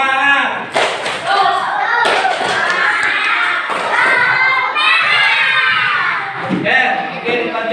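Schoolchildren in an Indonesian classroom perform a spirit clap chant together, rhythmic group clapping and shouted voices filling the room at close range throughout.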